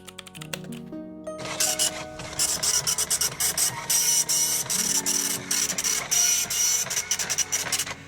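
A printer in the video game Lucy Dreaming prints out a visitor pass, a steady run of rapid mechanical rasping and clicking pulses that starts after a few soft tones and fills most of the clip, loud and close, with no talking.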